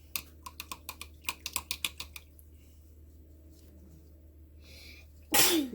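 A sudden loud sneeze near the end follows a run of quick, light tapping clicks and a stretch of near silence.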